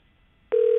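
After a brief near-silence, a steady electronic telephone tone starts abruptly and holds loud and unbroken.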